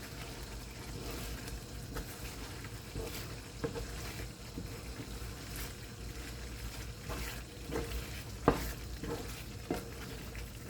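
Ground cashew and almond powder is stirred into hot ghee in a pan for gundar paak, a traditional Indian sweet: a soft, even frying hiss with light rhythmic scraping and occasional utensil taps, no talking.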